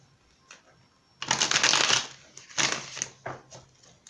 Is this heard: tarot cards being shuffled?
yes